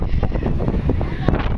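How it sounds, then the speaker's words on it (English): Steady wind buffets the microphone on a windy day, a continuous low roar with small gusts throughout. "it's a little windy today"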